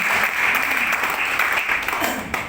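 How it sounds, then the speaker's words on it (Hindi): An audience at a marketing company's business meeting claps steadily and loudly throughout, a dense continuous applause with no pauses and no voices standing out. "3 लाख के लिए कितनी ताली दे सकते हैं?"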